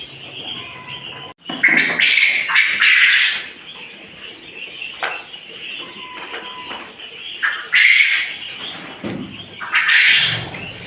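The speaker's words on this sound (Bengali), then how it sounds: "পাখি সমানে উড়াফেরা করতেছে।" Quail at a quail farm chirp and flutter close by in repeated bursts of shrill calls, with a steady high-pitched chatter of the flock underneath throughout.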